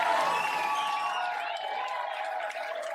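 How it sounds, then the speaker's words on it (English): Steady applause and cheering from a large television studio audience, sustained throughout with scattered whoops rising above the clapping. "thank the crowd for applauding her"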